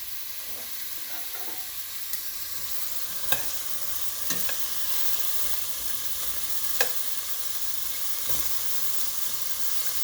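Tomato salsa mix frying in a pan on medium-high heat, giving a steady close hiss and sizzle with occasional soft clicks and stirring taps, and no voices.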